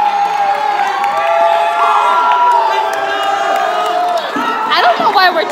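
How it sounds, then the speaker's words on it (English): Band members cheer loudly together, a close, sustained mix of whoops and shouting voices with a few higher yells breaking out near the end. "We're cheering."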